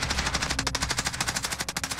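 Rapid automatic gunfire from a CR-56 AMAX in Call of Duty Warzone rattles in a dense, evenly spaced burst, loud and close with no voices.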